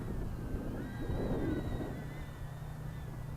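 Steady wind buffets a microphone outdoors at an RC plane maiden flight, a dense low rumble throughout with the faint thin whine of the small model plane's motor drifting overhead.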